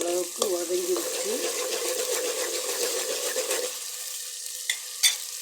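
Sautéing ingredients for fish curry in a pan, with a soft sizzle and scraping stir strokes for several seconds, then the pan quiets, followed by a couple of sharp utensil knocks near the end.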